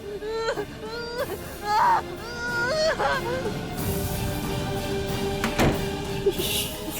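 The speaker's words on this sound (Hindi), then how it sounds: "बाहर जाके देखते हैं कौन रो रहा है।" Faint whimpering cries with wavering, moaning pitch rise and fade over a steady hum, with a thump near the end.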